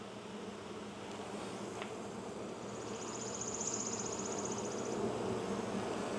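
Honeybees fanning hard at a hive, a dense, steady insect buzz with occasional individual bees whining past, close and continuous without speech.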